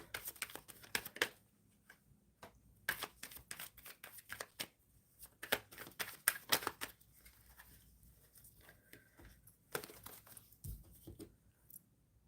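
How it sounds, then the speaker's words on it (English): Tarot cards are shuffled in quiet, irregular bursts of riffling and crisp flicks, close but soft, with short pauses between runs. "I'm shuffling for Carla"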